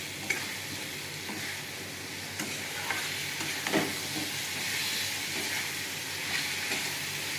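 A masala paste of turmeric, cumin and salt mixed with water fries in a pan, giving a steady broadband sizzle with a few soft stirring knocks, close and moderately loud, with no talking.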